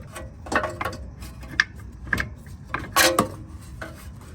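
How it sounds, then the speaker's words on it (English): Ratchet and wrench work loosening 13 mm nuts on a cooler bracket of a BMW N55 engine in a 535i, heard as a few scattered close clicks, clanks and metal rubs with quiet gaps between. "We're going to be removing these two 13 millimeter nuts that attach to a cooler over here."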